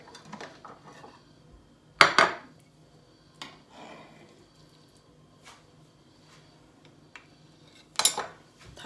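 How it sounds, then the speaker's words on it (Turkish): A food container lid closed with a couple of sharp plastic clacks and knocks, separated by quiet gaps and softer handling sounds, close by. "Şimdi böyle kabımın kapağını kapattım."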